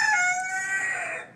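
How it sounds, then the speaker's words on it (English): A rooster crows once in a backyard garden, a loud, close, drawn-out call that tapers off at the end, with no talking over it. "excuse my roosters"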